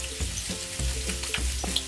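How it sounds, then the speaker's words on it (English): Shrimp seasoned with salt and white pepper sizzles and crackles in a hot pan, with brief stirring scrapes at a regular pace, close and moderately loud, no voices. "cook it for a few minutes until the shrimp is pink on both sides"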